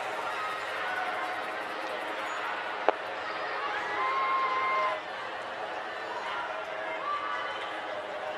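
At a Norway versus USA mixed team wheelchair curling match in Milano Cortina, an arena crowd of US fans keeps up a steady din of cheering and chatter, swelling briefly midway, while a commentator talks over it.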